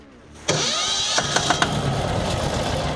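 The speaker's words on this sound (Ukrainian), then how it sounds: "Все, моторчик працює." A diesel motorcycle engine catches abruptly after a brief quiet moment, then settles into a steady close-up running chatter with a few sharp knocks early on.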